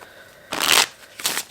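A deck of playing cards being shuffled, two quick riffling bursts close to the microphone, the first longer and louder, the second shorter, with a brief quiet pause between them.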